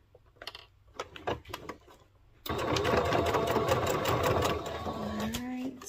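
A domestic sewing machine runs a steady straight stitch while a daisy top is sewn, loud and continuous for about three and a half seconds after a quieter stretch of brief handling sounds and faint talk.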